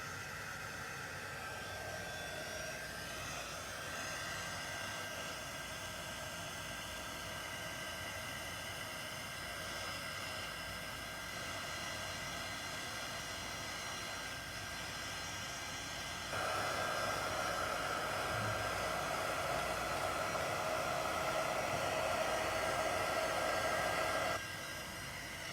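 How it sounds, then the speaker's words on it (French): A heat tool blows steadily while drying paint and powders, a continuous hissing, whirring airflow with a tonal whine that steps louder for several seconds before dropping back, close and without speech. "It's not fun watching paint dry or watching me heat this"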